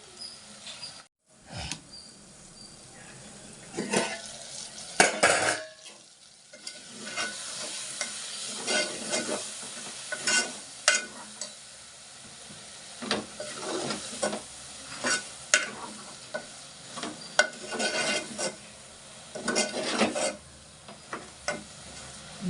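Fish and onion curry with green chillies simmering in tamarind broth, heard as a soft bubbling sizzle with frequent scraping stirs of a spoon against the pot, close by and with no voices.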